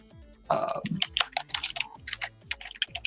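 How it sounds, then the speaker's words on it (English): Close computer keyboard typing, with a quick irregular run of crisp key clicks and taps after a louder initial thump, no voices. "Sorry, typing."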